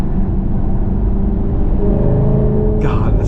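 2009 Alfa Romeo 8C Spider engine running loud and close, a deep continuous drone with steady low rumble from inside the car, and a brief voice near the end.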